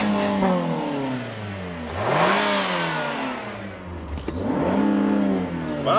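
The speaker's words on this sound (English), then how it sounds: "Wow, Nathan, it lets you actually rev it. Yeah, all the way up to redline" A 2014 Nissan Rogue engine revs toward redline: loud, close rising whines sweep up and fall back twice, with a steady mechanical drone between pulls and no talking over them.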